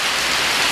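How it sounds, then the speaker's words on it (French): Heavy rain pours steadily during Hurricane Irma, a loud, dense, continuous hiss filling the whole moment with no voices. "Du coup, il pleut à fond."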